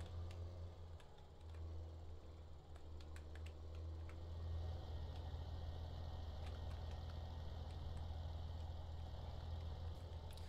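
A tractor engine idles in Landwirtschafts-Simulator 17, a steady low rumble running unbroken and fairly loud throughout, with faint keyboard clicks scattered over it.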